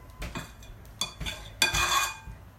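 A spoon scraped and tapped against a mixing bowl of sand tart cookie dough, several short clinks and scrapes in an irregular rhythm, the last one longer and louder, close and clear with no talking.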